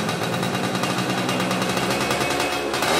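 Used motorcycle engine idling and revving nearby, a rapid, steady mechanical putter with a harsh rattling edge, loud and continuous throughout.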